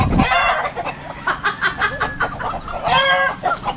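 A chicken clucks repeatedly in quick, loud, close bursts, with a few sharper squawks toward the end.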